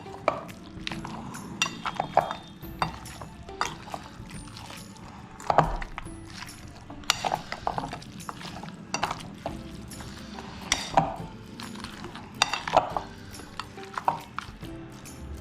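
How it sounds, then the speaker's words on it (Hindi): Marinade for mutton chops being mixed in a bowl: irregular soft scrapes, knocks and clicks keep going at a fairly faint level throughout, with no voices. "मिक्स कर दूंगा, सारी चीज़ें अच्छी तरीके से मिक्स हो जाएंगी।"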